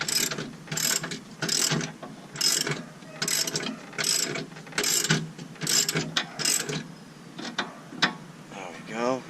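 A ratchet spins a nut off on a Dodge Caliber SRT-4 during intermediate shaft work, sounding as a run of fast, crisp clicking bursts in a steady rhythm, close and fairly loud, ending with a few scattered clicks.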